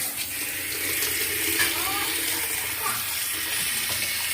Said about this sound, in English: Just getting hot water in this.